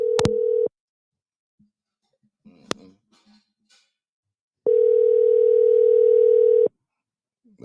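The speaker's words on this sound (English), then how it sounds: "He ain't answering my phone call." A telephone call goes unanswered, with two long steady tones separated by a quiet gap with faint clicks, close and clear with no voices.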